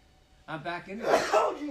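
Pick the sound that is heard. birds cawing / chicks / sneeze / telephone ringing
sneeze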